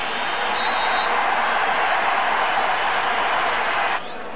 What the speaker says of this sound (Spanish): Pitada para Zucker, aplausos para Morientes